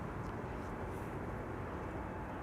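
Steady broadband roar of a large aircraft spooling up at Amsterdam Schiphol Airport, heard at a distance as a continuous even wash of engine noise with no voices.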